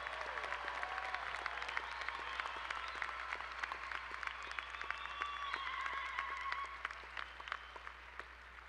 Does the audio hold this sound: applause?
yes